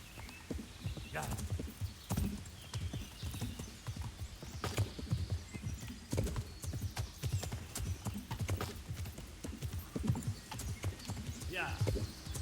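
Steady clip-clop of horse hooves at a walking rhythm in the video game Kingdom Come: Deliverance, with a brief whinny and people talking over it throughout.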